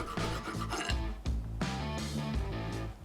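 A hand file rasps across a cast brass hammer in repeated back-and-forth strokes, with gritty scraping pulses and short pauses between passes, close and fairly loud with no talking.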